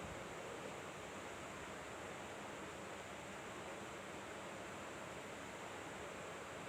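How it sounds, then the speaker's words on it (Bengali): Noodles boil in a pot of water with a little oil added, making a steady, even rush of bubbling that runs unbroken throughout with no talking. "এখন আমি নুডলসটা দিয়ে দিচ্ছি।"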